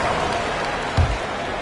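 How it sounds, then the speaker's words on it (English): Steady crowd applause and cheering fill the space, a continuous broadband roar of clapping from a large arena audience in NBA 2K25. "Give yourself a round of applause."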